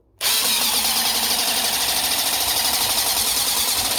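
A Masterforce hydraulic impact driver driving long screws, a loud, steady, continuous whirring drone that starts abruptly and holds at full intensity close by, without talk.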